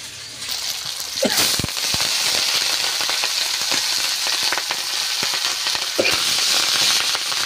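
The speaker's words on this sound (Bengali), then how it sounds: "এবার শাকগুলো দিয়ে দিচ্ছি কড়াই।" Leafy greens tossed into a hot wok, a sharp burst of spitting, crackling oil that settles into a dense, steady sizzle with occasional stirring clanks.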